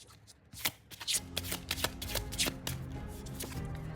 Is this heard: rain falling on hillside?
no